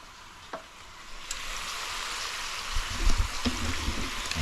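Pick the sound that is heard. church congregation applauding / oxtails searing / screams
oxtails searing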